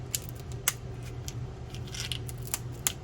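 Scissors cutting through hard lobster shell, giving sharp crunchy snips at irregular intervals, close and fairly quiet, over a steady low hum.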